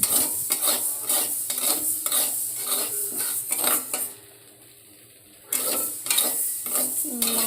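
Mung dal frying in a pan on a gas stove, with repeated scraping stirs and clinks of a utensil over a steady sizzle; a short quieter pause breaks the rhythm midway before the stirring resumes.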